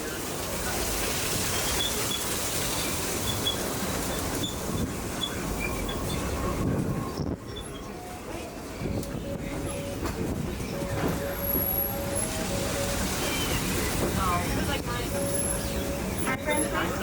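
Disneyland Railroad train on its Grand Circle Tour rumbles steadily along the track, with constant rolling wheel noise, occasional faint squeals and a recorded narrator speaking over the ride.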